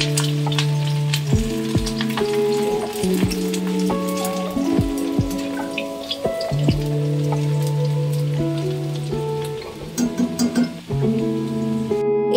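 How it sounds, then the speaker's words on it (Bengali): Chopped onions fry steadily in white oil until browned, giving a continuous sizzle and crackle throughout, with musical tones playing over it. "এবার পেঁয়াজগুলোকে খুব সুন্দর করে ভেজে বেরেস্তা"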